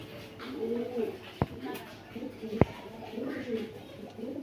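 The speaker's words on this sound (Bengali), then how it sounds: "অরিজিনাল র ব্রিডের কোবরা মিলিটারি কবুতর, কোবরা মিলিটারি নর" A male Cobra Military pigeon gives soft, repeated throaty coos nearby, with a couple of sharp clicks between them.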